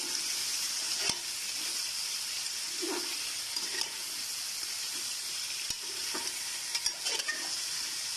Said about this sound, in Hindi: अच्छी तरह से भूनूंगी इसको।